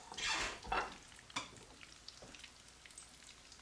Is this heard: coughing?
no